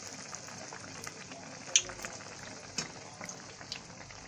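Bread pakora pieces frying in hot oil over a low flame, a steady soft sizzle and bubbling with a few small pops, close and alone without talk.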